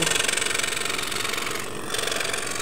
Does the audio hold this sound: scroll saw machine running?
yes